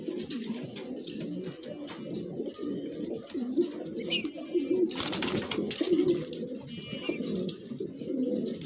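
Black Sirazi pigeons coo continuously at close range, a steady run of low, rolling calls that overlap, with some fluttering and scuffing in the loft.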